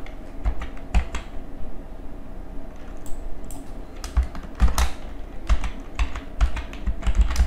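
Fingers tap out a password on a computer keyboard, producing a close, irregular run of crisp key clicks with a few heavier strokes, steady for several seconds.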